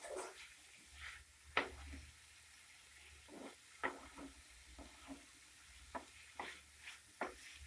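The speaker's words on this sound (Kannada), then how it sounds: "ಇನ್ನೊಂದು 4 ನಿಮಿಷ ಫ್ರೈ ಮಾಡ್ಕೊಳ್ಳಿ ಸೊಪ್ಪನ್ನ" Drumstick leaves frying in a pan over a medium flame, heard as a faint, quiet sizzle broken by scattered soft stirring clicks and scrapes.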